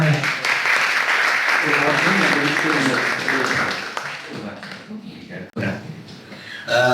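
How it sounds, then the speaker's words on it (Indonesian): An audience applauds after a presentation, a dense, loud wash of clapping mixed with crowd voices that fades over a few seconds, followed by a brief quiet and a fresh burst of sound at the end. "Tepuk tangan untuk Bung Patir."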